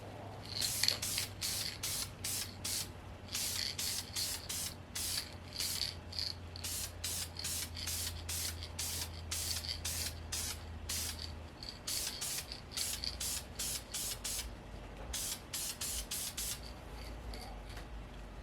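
Rust-Oleum metallic gold spray paint hisses from an aerosol can in quick repeated bursts, dozens of short sprays in a fairly even rhythm, close and moderately loud over a low steady hum.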